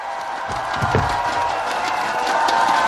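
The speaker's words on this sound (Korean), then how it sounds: "뜨거운 박수로 맞이해 주십시오" A large crowd at a Daegu election campaign rally for presidential candidate Lee Jae-myung applauds and cheers continuously. The broad, steady roar stays loud throughout, building slightly toward the end.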